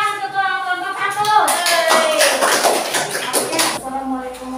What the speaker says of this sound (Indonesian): Beri tepuk tangan ketua kelompok 1.